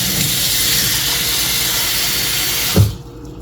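Water pouring from a tap into a pot in a home kitchen for boiling longaniza sausage, a steady loud hissing stream with a brief clunk before it stops.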